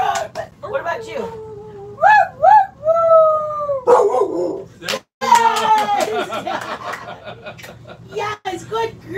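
Dogs howl in a tuneful, rising-and-falling imitation of a spoken phrase, several short close howls one after another, with a person talking between and over them.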